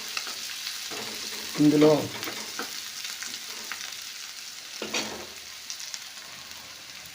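Onions soften in a pan of oil for okra tamarind stew, giving a soft, steady sizzle with occasional stirring scrapes. Someone says a single word once.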